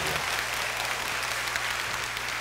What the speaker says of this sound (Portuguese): Vale até você aplaudir em nome de Jesus.